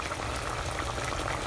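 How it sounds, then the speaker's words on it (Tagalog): Coconut milk with saba bananas bubbles at a steady boil for a Bicol pinakro dish, heard close up as continuous dense bubbling and popping with no talking. "As you can see, kumukulo na po siya, di ba?"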